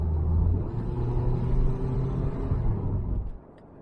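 A car driving on a road at night, its low steady engine and road rumble filling the cabin close and loud before dropping away abruptly near the end.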